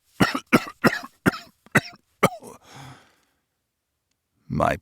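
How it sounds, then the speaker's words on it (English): A narrator voices a harsh, hacking cough: about six sharp, evenly spaced bursts close up, trailing into a wheezy breath and a short pause before a final gasp. "How long have you had that cough?"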